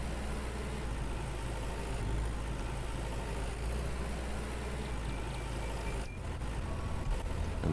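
A tractor engine idles steadily in the farming game Farmer's Dynasty, a constant low rumbling drone held throughout at moderate loudness, with no voices.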